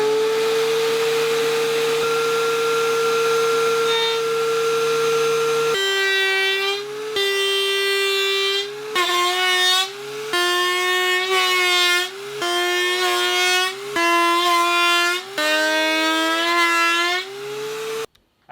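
A DeWalt DW735 thickness planer shaves a PVC board in a loud, droning whine that runs steady, then breaks into a series of short passes separated by brief dips.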